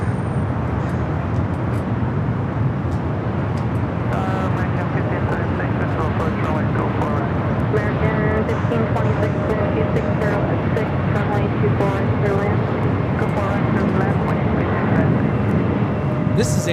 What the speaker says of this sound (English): This is Air Canada 785 coming in from Toronto on the MAX 8.